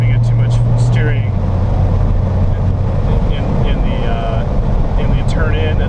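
Corvette engine at speed on a race track, a loud, continuous droning roar with shifting pitch and heavy wind rush throughout, while a driver talks over it.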